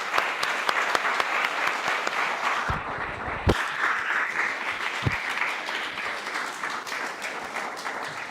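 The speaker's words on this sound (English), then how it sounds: "So, round of applause, Master Matt." Dense, enthusiastic applause from an audience at an annual award presentation day, loud and continuous for several seconds, with a few sharp individual claps and thumps standing out and no talking over it.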